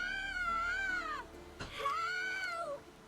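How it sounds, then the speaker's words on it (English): Two long wailing cries, rising and falling like a distressed child or cat, sound from a valley in The Witcher 3 video game, fairly near and loud with no talk over them. "Hear that? Sounds like a kid."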